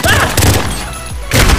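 Gunfire in a Call of Duty match, sharp loud bursts of rapid shots at the start and again near the end, with a quieter stretch of muffled action between them and a voice briefly audible.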